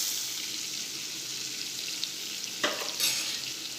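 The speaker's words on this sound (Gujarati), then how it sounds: "આપણે મસાલાને આ રીતે થોડીવાર 1 મિનિટ જેવા સાતળી લઈશું" Whole spices sautéing in hot oil in a pan for rajma masala, a steady close sizzle and crackle with a couple of brief stirring scrapes, no voices.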